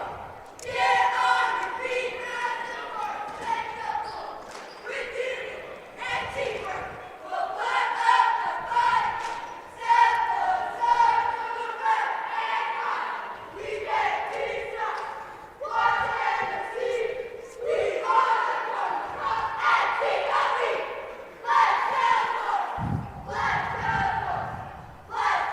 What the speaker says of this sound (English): They got a lot of cheerleaders here, too, and they're doing their opening cheer.